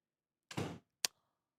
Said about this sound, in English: You hear him slamming doors.